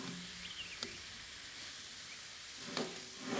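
Pasta sauce deglazing in a pan on a grill gives a steady, fairly quiet broadband sizzle, with a couple of brief clinks or stirring scrapes breaking through near the start and toward the end.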